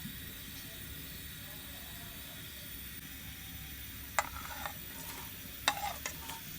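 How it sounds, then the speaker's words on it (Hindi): Half a cup of oil heats in a kadhai for a spiced cauliflower and potato curry, giving a steady, soft sizzling hiss throughout, with a few brief clinks and scrapes near the end. "ऑयल को अच्छी तरह गर्म कर लेते हैं"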